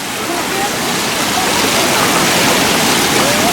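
Loud, steady rush of floodwater flowing across a road in Thailand, a dense broadband roar with no pauses, close by.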